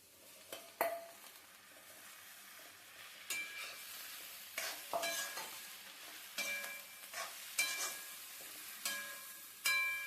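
Leftover idli batter pieces being stir-fried with onions in a pan, with quiet sizzling under repeated spatula scrapes and metallic clinks against the pan at an uneven rhythm.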